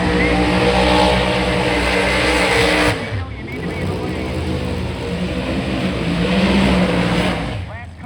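A Pro Modified Chevrolet Camaro drag racing car engine roars loudly and close, cutting off abruptly then rumbling and revving again, with an announcer talking over it.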